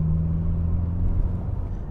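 A 2013 BMW M6 Coupe under hard acceleration from inside the car, a loud, deep low engine rumble with a steady drone that rises slightly and stays heavy throughout, with no talk.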